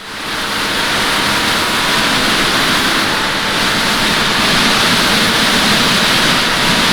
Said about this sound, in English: that scary fire hose sound of water spraying up into the wheel arches